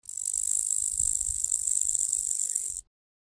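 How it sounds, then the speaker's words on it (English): A grasshopper chirps in a steady, continuous high buzzing trill that runs unbroken for nearly three seconds, then stops abruptly into silence. "Grasshopper."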